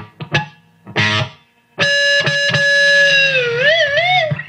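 Heavily distorted electric guitar notes ring out after a few sharp picked hits, then a whammy-bar dive bomb makes the sustained tone bend and waver in pitch toward the end.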